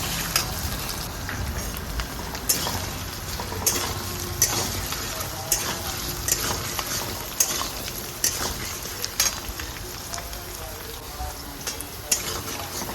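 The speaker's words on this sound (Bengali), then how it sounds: "আলুটাকে তেলের মধ্যে ভেজে নিচ্ছি।" Potatoes fry in oil in a pan for jhinge aloo posto, with a constant close crackling sizzle and light clicks from stirring recurring about every second.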